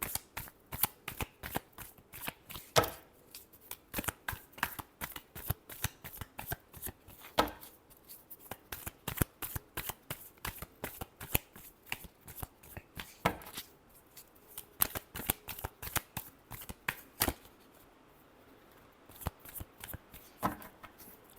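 Tarot cards shuffled by hand in a long run of crisp riffling bursts, close and fairly quiet, with brief pauses between bursts and a short lull near the end.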